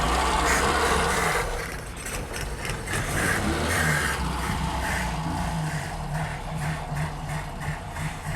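Engine of a 1964 Vauxhall HA Viva running after sitting for nineteen years, with a suspected weak fuel pump, a close, loud rumble that eases from a higher rev into an uneven idle with a faint rhythmic throb.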